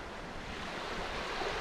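Sea waves wash onto the shore on a bright day, heard as a steady, fairly loud broadband surf that swells slightly toward the end, with wind and no voices.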